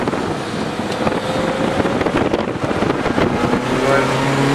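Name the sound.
Subaru race car passing on the straightaway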